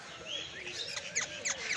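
Parrots in a lakeside park in Islamabad give a quick series of faint, sharp chirps and rising whistles, several calls overlapping over a quiet outdoor background.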